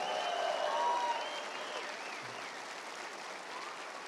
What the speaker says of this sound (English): Give all of them a round of applause one more time.